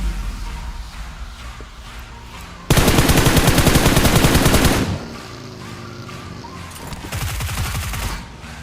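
Automatic gunfire in a mobile battle royale game, a sustained loud burst of rapid shots lasting about two seconds, followed by quieter game sounds and a second shorter volley of shots.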